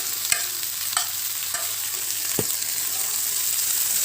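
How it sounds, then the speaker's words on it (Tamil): Mint, coriander and curry leaves sauté in hot oil for a pickle, giving a steady bright sizzle broken by four sharp spoon taps and scrapes against the pan. "இதெல்லாம் எண்ணெயில் நல்லா வதக்கிடணும், கொஞ்சம் கூட ஈரம் இல்லாமல்"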